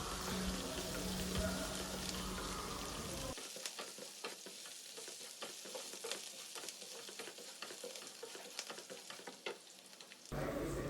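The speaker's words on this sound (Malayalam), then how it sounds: "പിന്നെ പച്ചമുളകും ഇഞ്ചിയും ഇടും എന്നിട്ട് നന്നായിട്ട് സോട്ട് ചെയ്യുക ഈ ദാലൊക്കെ ബ്രൗൺ ആകുന്ന വരെ സോട്ട് ചെയ്യുക" Dal, green chilli and ginger sautéing in a pan, with a steady crackling sizzle and frequent stirring scrapes, preceded by a louder, denser frying burst.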